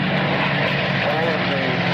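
Several Supermarine Spitfires, early, middle and late high-back marks including a Mark 5, Mark 9 and Mark 14, fly past together in formation, a steady loud propeller-engine drone with a voice talking over it throughout.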